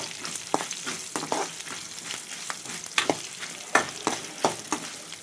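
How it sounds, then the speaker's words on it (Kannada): Sesame, curry leaves, chilli, coriander and garlic fry in a pan with a steady sizzle. Irregular spatula clinks and stirring scrapes sound close up, with no voices. "ಇದನ್ನು ಸ್ವಲ್ಪ ನಾನು ಫ್ರೈ ಮಾಡ್ಕೊತೀನಿ"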